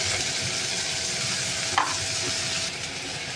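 Potatoes sizzle steadily in a frying pan as spices are stirred in, with a continuous hiss and a brief scrape of the spoon partway through. It is close, with no talking.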